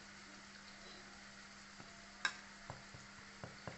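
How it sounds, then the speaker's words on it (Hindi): Chandrakala sweets fry gently in oil over a low flame, a faint, quiet sizzle with a steady low hum and a few scattered soft ticks and pops. "इधर ये फ्राई हो रही है"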